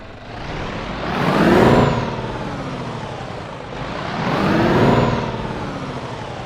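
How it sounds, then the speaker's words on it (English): A Scania 560S Super truck engine in Euro Truck Simulator 2, rumbling and revving up twice in swelling surges, each rise accompanied by a brief hiss of air, close and loud. "let's get our Scania 560S Super started up and start exploring this underground complex"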